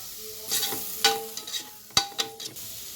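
Tomatoes and salt stirred and fried in a pan for veg biryani, with a steady sizzle under a handful of sharp, irregular spoon scrapes and knocks, close and clear with no talking.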